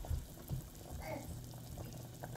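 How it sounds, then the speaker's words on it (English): Peeled potato boiling in a pot of water on a stovetop, a faint soft bubbling and gentle liquid churn heard close by in a quiet kitchen, with a few small clinks. "I actually already have my potato peeled and on the stovetop boiling in some water"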